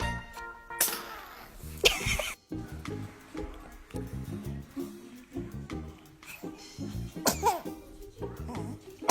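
A seated baby sneezes, a few sharp, loud bursts spread over several seconds, set against a steady musical backdrop with faint nearby voices.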